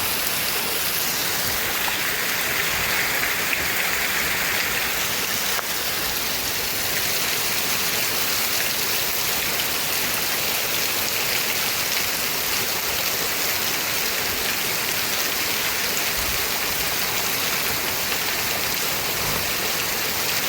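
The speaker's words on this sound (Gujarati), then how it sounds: "વરસાદ વરસતો હોય તો વરસવા દેવો" Heavy rain falls over a farm field in a constant, loud wash of noise, driven by strong wind and holding steady with no voices.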